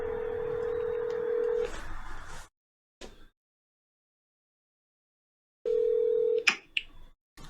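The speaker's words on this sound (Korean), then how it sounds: "전화 거시죠." A telephone call being dialed produces a steady hum-like line tone, a pause of silence, then the tone returns briefly before short, sharp keypad beeps and clicks.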